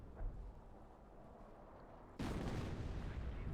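An artillery salvo fires in the World War II strategy game Company of Heroes, a distant thump followed by a sudden loud, sustained roar of rumbling blasts.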